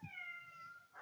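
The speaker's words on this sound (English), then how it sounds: "Can y'all hear my cat meowing?" A house cat meows in one long drawn-out call, close by and fairly quiet, with a brief low thump at the start and no talking.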